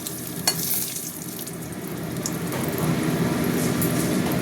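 Dried red chillies and bay leaves sizzle steadily in hot oil, a dense close crackling hiss that builds slightly louder over time, with one brief clink early on.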